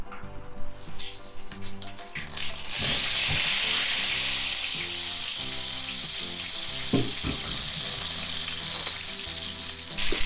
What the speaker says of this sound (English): I'm basting the potatoes with the dripping fat